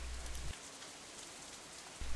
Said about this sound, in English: Raindrops hitting the umbrella make a distinctive sound, playing the staccato melody of rainfall for nobody in particular.